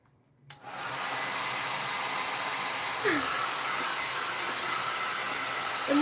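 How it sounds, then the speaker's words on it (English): A hairdryer switches on after a brief click and then blows steadily, a loud continuous broadband whoosh that holds without break; faint squeaky sounds appear briefly near the middle and at the end. "You like hairdryer noises?"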